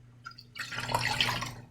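Water poured into a cooking pot while preparing Bhutanese khewa datshi, a steady splashing fill that starts softly, then swells into a continuous close pour with no talk.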